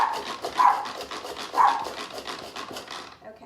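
A dog barks and whimpers close by, a couple of sharper yelps amid softer panting-like sounds, fading out at the end.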